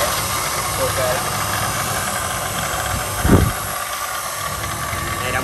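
Japanese-market hydraulic log splitter with a 220 V electric motor running steadily, a continuous close hum and whir with a brief louder thump partway through, under a noisy background.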